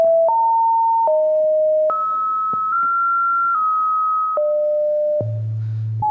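Pure sine tones from a phone's JavaScript oscillator step through a series of pitches, each held for about a second, loud and clean with no talking, ending on a low buzzy tone.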